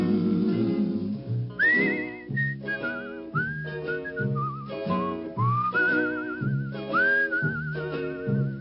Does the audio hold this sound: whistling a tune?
yes